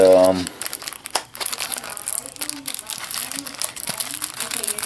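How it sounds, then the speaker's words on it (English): Loud, close crinkling and crumpling as a phone case is unwrapped from its envelope-style packaging, continuous rustling throughout, with a person talking over it. "while I'm unwrapping this"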